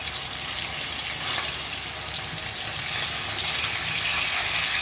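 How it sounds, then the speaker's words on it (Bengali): Fish pieces shallow-frying in hot oil give off a steady, dense hiss of sizzling that holds close and loud throughout without pause. "এক এক করে লাল করে মাছগুলোকে বেশ সুন্দর করে ভেজে নেব"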